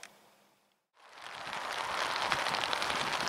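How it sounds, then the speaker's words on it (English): Dense rain patters steadily on an umbrella close overhead, following a brief drop to near silence before it surges back. "Sorry about the rain noise."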